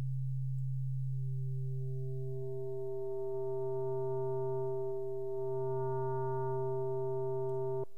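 An FM synthesis tone in NI FM8 holds a pure low sustained pitch, then upper harmonics gradually fade in, shifting it toward a hollow clarinet-like timbre; a steady, moderately loud tone alone until it cuts off at the end.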